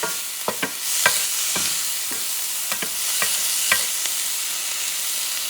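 Garlic fries in a pan with brined green peppercorns, a steady bright sizzle with several sharp clicks and taps of stirring scattered throughout, close and without speech.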